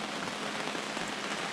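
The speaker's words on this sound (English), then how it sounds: "Raining in the kitchen." Steady rain patters on the roof of a camper van parked at Promised Land State Park in Pennsylvania, a continuous, even wash of drops with no pauses.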